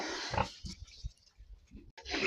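A pig grunts in a pen, giving a series of low, close grunts and snuffles with short pauses between them and some rustling around, with no speech.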